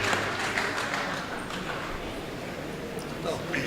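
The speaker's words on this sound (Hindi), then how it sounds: "मैं चाहता हूँ कि इस्तकबाल करें ज़ोरदार तालियों में" Audience applause at a mushaira poetry gathering in Pune, a dense, steady clapping wash filling the whole stretch at moderate loudness.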